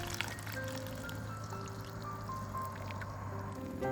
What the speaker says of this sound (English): Remember that caramel sauce we made? We'll be pouring this right over the chicken.